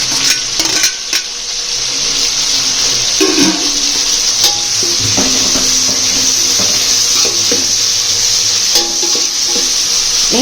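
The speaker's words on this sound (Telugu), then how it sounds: "బాగా వేగాలండి. వేగితేనే మనకి రుచి ఉంటుంది బాగా." Tomatoes, onion and green chilies fry in oil for chicken biryani, a steady loud sizzle running throughout with scattered clinks and scrapes of stirring in the pan.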